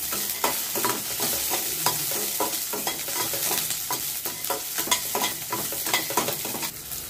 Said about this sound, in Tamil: நல்லா வெங்காயம் வதக்கட்டும்,